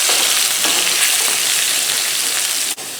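Lean ground bison sizzles loudly in a frying pan with olive oil, a dense, steady crackle that runs close and continuous, with one brief dip near the end.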